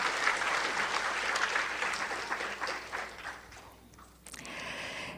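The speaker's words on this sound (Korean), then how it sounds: "여러분 힘찬 박수로 인사를 나누시기 바랍니다" An audience at a commemoration ceremony for the anniversary of the inter-Korean summit declaration bursts into sustained, hearty applause that thins out, then picks up again briefly near the end.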